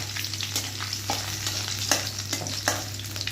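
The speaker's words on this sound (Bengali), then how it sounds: "আমি কিছুটা কালো জিরে ফোড়ন দিয়েছি, আর এর সঙ্গে কিছুটা আদা কুচি দিলাম।" Dried chili, black cumin and chopped ginger sizzle steadily in hot oil, a close continuous crackle broken by a few sharper spits and a soft hum underneath.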